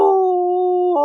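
A voice imitating a hound's howl on an old-time radio comedy, one loud, sustained, steady-pitched mournful note lasting about a second before breaking at the end.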